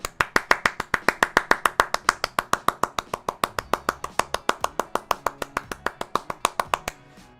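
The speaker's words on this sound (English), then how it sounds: "Round of applause for Rose again." A steady run of roughly forty sharp, even claps, loud and close, with no voices, ends abruptly near the seven-second mark. The applause is for a player on an Overwatch stream.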